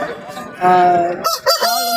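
A rooster crows loudly nearby at a rooster market in Kunnathur, Tiruppur, a drawn-out harmonic call followed by a second shorter crow amid faint background noise.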